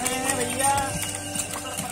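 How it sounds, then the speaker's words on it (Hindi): Hooves of a horse pulling a horse-drawn cart clip-clop on a village road in a steady rhythm, close and clear, while someone talks over them. "अरे वाह ये घोड़ा गाड़ी बहुत दिनों के बाद देखने के लिए मिला है घोड़ा गाड़ी।"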